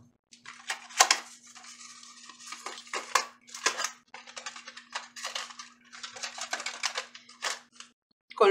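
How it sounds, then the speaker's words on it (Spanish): A utensil beats liquidy strawberry tamale batter in a bowl, a rapid, continuous clattering whisk against the sides, close and fairly loud, with a few brief pauses and a steady faint hum beneath. "Vamos a batir muy bien"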